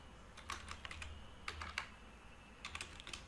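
Code being typed on a computer keyboard, short clusters of quick soft key clicks in three bursts, close but quiet, with no voice over them.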